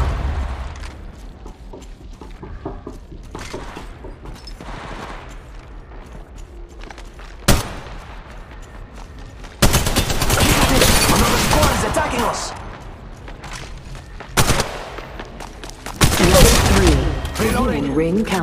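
Gunfire bursts in the mobile battle royale game Apex Legends Mobile, loud rapid volleys with booms clustered in the second half, after quieter footsteps and game sounds.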